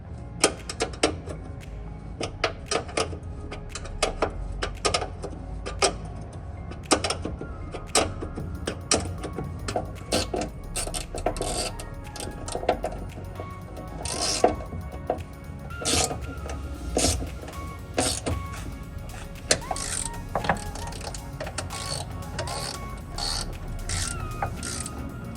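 A ratchet tightens bolts on a 2009 International 7400 MaxxForce truck, its rapid clicking coming in quick bursts, close and fairly loud, with no talk.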